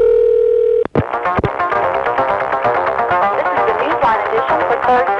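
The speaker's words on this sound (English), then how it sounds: "When you would dial the code, you'd get another recall dial tone, onto which you could then dial a phone number." A steady telephone recall dial tone on a 1A ESS Centrex line from the early 1980s hums loud and close, then breaks off with clicks into a busier stretch of tones and line sounds.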